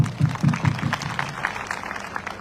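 Scattered applause from an audience at an event in Raipur, with a few distinct claps at first that thin into a softer, ragged patter. The sound is moderately close and fairly quiet overall.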